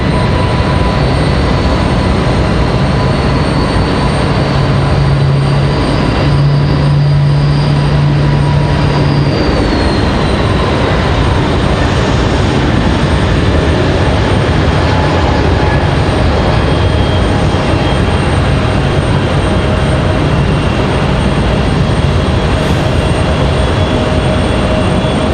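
A jet airliner lands at Raleigh Durham airport with fire crews trailing it to the gate, its steady broadband roar loud and constant, with a faint whine drifting slowly downward and a brief low tone early on.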